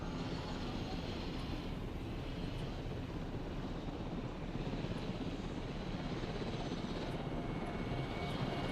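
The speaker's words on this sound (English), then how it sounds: "As the helicopter is currently chasing these guys." A helicopter in the game Jurassic World Evolution chases dinosaurs, its steady rotor and engine drone holding at an even, moderately distant level throughout with no talk.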